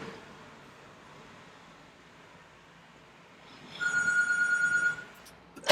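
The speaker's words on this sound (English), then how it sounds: "And the freaking phone rings." A telephone rings with a steady electronic trill for about a second, loud against a quiet background hum, then stops.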